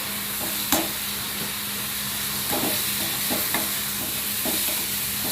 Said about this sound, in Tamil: நல்லா வதக்கி விட்டுருங்க